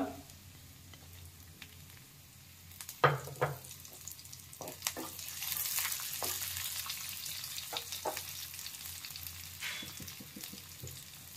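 Ginger and garlic fry in a pan over low heat for a veg hot and sour soup, a soft, steady sizzle with occasional stirring clinks and scrapes, close and fairly quiet.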